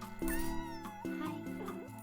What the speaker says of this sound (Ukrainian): Котик.